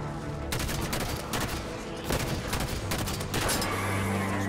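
Gunfire in Halo 5: Guardians, a game, emptying a weapon: repeated loud bursts of close shots with brief pauses between them, ringing on through the clip, with no talking over it.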